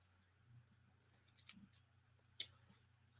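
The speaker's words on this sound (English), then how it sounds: "I'm gonna cut it off right here at this dark line" Scissors trim paper for a junk journal, a few quiet, sparse snips and clicks close by, one sharper cut standing out against near silence.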